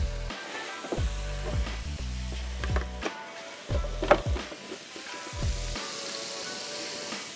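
Broccoli, aromatics and oil stir-fried in a hot pan for chicken broccoli rice, a loud close sizzle broken by repeated scraping and tossing bursts of the utensil against the pan.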